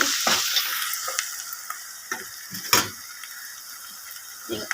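Mutton blood deep frying in oil, with a soft continuous sizzle broken by sharp intermittent crackles and spoon scrapes close up, and no speech.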